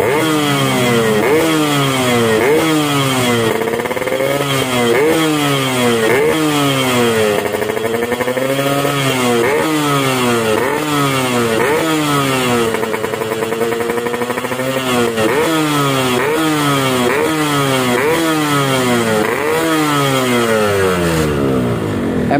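Yamaha RX King two-stroke motorcycle fitted with an SKR racing exhaust revs hard again and again, loud and close, each rising whine dropping back in a steady rhythmic cycle with no talking.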